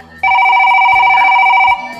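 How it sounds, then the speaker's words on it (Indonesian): A telephone rings in one loud, sustained electronic trill lasting about a second and a half, close and clear, in a Sundanese comedy drama. "Telepon."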